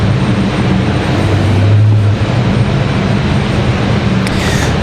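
A Delta airliner from Atlanta arrives at Raleigh Durham, a loud, close, low engine roar with a rumbling drone that swells briefly before holding steady.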